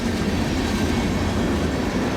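A CN L571 freight train of empty ethanol cars rolls past in falling snow beside the frozen Cedar River in Iowa, a steady, close, heavy rumble with rattling wheels.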